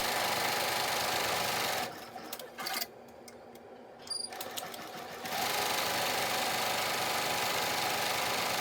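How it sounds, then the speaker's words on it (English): A multi-needle embroidery machine stitches a design on a cap, a loud rapid mechanical whir that drops out for a few seconds mid-clip with small clicks, then resumes steadily. "load the hoop to the machine and rotate the design and start stitching that one"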